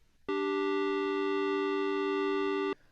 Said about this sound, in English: Now we have a musical interval that's called a perfect fourth